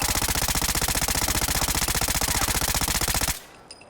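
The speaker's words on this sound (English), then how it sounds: "Give me some fully automatic fire." Fully automatic weapon fire in Fallout 4 on Xbox with a weapon overhaul mod, a loud, rapid, steady burst of shots close up running for over three seconds before cutting off abruptly into quiet.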